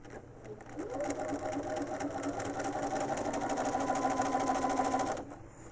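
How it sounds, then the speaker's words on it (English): A sewing machine stitches quilt binding in one continuous run of about four seconds, a steady close mechanical hum with rapid needle chatter that starts and stops cleanly over a quiet background. "let's sew that along here"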